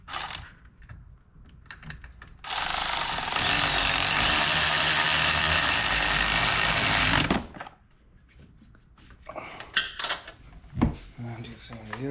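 A 10mm bolt on the cooling fan assembly of a Can-Am Outlander 850 XT is driven snug with a power tool. A loud, steady mechanical whir lasts about five seconds, set between quieter handling clatter.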